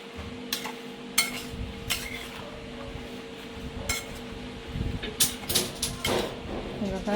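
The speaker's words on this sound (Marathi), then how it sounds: "असं चांगलं मिक्स करून घ्यायचं आणि आपण आता हे रात्रभर ना असंच ह्याच भांड्यात ठेवू" Spicy traditional Marathi pickle being mixed in a pot, with scraping and clinking of a spoon against the vessel in irregular bursts, close up, under a quiet background hum.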